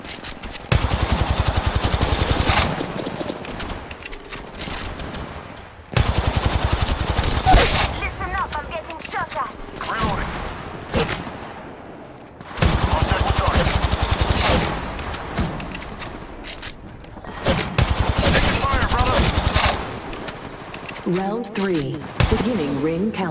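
Repeated bursts of rapid automatic weapon fire in the battle royale game Apex Legends, several seconds each and separated by short lulls, with brief voice callouts heard between and under the shooting.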